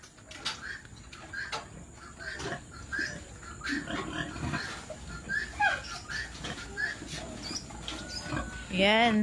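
A pig grunts and snorts repeatedly at close range on a farm, short rough bursts scattered through the clip, with people talking nearby throughout.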